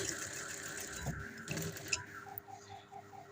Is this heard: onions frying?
no